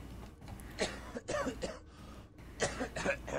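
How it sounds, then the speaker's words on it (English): A person coughs several times in separate bursts, close and fairly loud, with short pauses between the coughs and no speech. "I'm actually sick in real life, so I'll cough on him back."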